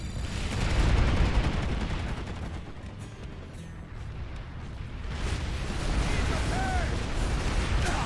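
Continuous heavy gunfire and explosions in the PlanetSide 2 video game battle at Indar Bay Point, a loud dense barrage that swells, eases briefly and builds again.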